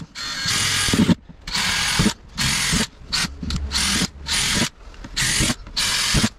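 A power drill bores drainage holes through the bottom of a plastic container for shore long-line fishing gear, in loud repeated whirring bursts of about a second each, separated by short pauses, with no speech.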